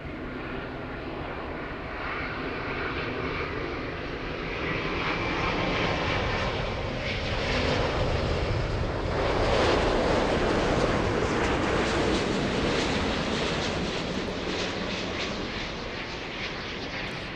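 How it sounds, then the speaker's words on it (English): Delta Airbus A350 jet arriving at LAX from Haneda, a loud broad engine roar that swells and holds steady as the airliner passes, continuous and close with no break. "Big A350."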